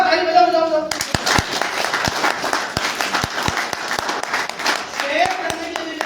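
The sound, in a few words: audience clapping at a seminar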